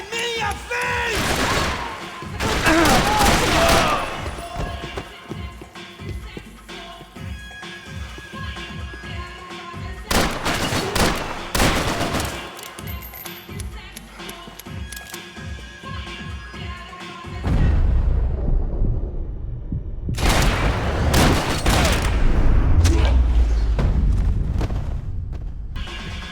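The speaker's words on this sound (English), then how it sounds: "No shooting!" Gunfire in a dramatic scene comes in loud, dense bursts of shots and booms separated by quieter stretches, with a heavy rumbling stretch at the end and some voices mixed in.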